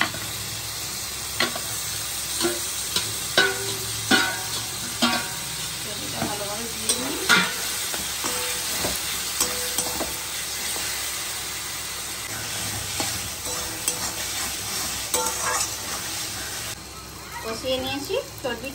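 Mutton fat frying in a pan, with a steady sizzle under repeated scraping and stirring strokes, close and moderately loud, while a voice talks over it.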